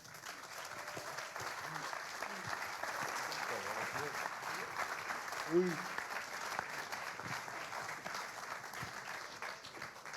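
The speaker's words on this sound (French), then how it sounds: "On l'applaudit chaleureusement." An audience at the h'up 2022 trophy ceremony applauds warmly in steady, moderate clapping that runs throughout, while voices talk over it and one person answers briefly.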